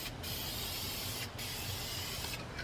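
An aerosol spray can lays a heavy coat of paint onto Nissan 350z racing headers, a continuous close hiss broken by two brief pauses as the nozzle is released and pressed again.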